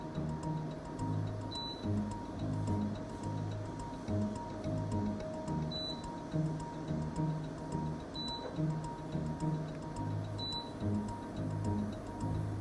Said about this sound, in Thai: ว่าได้ยินเสียงตัวแอร์ รับคำสั่งอยู่เนาะ